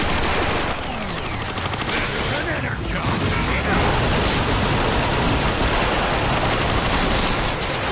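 Gunfire in Transformers: Fall of Cybertron team deathmatch, a loud, continuous mechanical rattle of rapid shots with metallic clanks throughout, and a player's voice occasionally mixed in.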